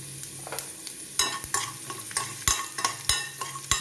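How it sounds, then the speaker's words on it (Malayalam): Ginger and garlic fry together in hot oil, a steady sizzle punctuated by sharp, rhythmic scrapes and clacks of a spoon stirring against the pan, close and alone. "ഇഞ്ചിയും വെളുത്തുള്ളിയും ഒരുമിച്ച് വേണേലും വറുത്ത് കോരാം"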